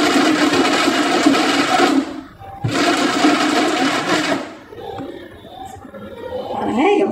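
A mixer grinder minces mutton into keema on pulse mode, with loud whirring bursts in short pulses separated by brief pauses and a dip in the motor's drone partway through.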